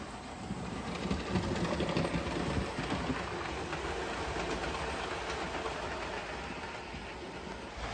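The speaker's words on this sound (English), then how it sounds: "I was supposed to be getting a train out of the fiddle yard" Continuous rolling rumble with a fine clicking rattle, a model train running steadily on track, loud and close throughout.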